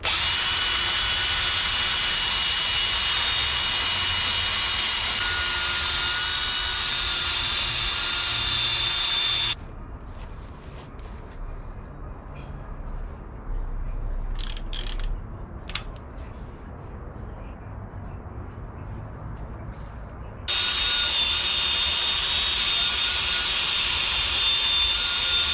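A hand drill spinning a soft wire wheel to clean the pistons of a junkyard K24A2 engine, a steady loud high whine that stops for about ten seconds, then starts again; no voices.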